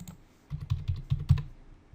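A test password being typed on a computer keyboard, heard as a short run of about half a dozen soft, close key clicks in quick succession, faint and alone.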